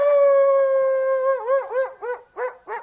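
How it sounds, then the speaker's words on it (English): A single wolf howls in a long, steady, rising tone, then breaks into a series of short wavering yips and howls. The howl is close and clear, with no talk. "Wolf."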